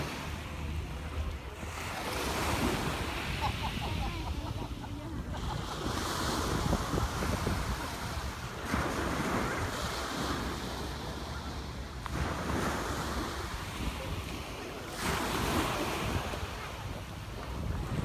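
Ocean waves washing onto Miami Beach in Penang, with surges of surf rising and falling every few seconds under heavy wind buffeting on the microphone.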